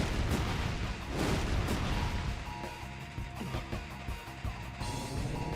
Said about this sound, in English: And we'll have him use Fire Breath